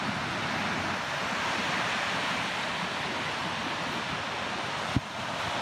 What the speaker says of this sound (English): a nice and windy day today at the beach. The waves are coming big and small